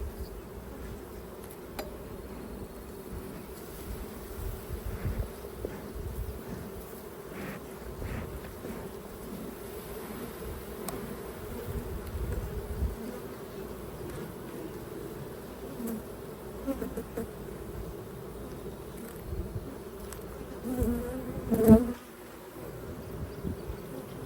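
Honey bees buzz around open hive frames in a steady, close, droning hum. Individual bees swell louder as they pass nearby, with one sharp, loud fly-by near the end and no voices.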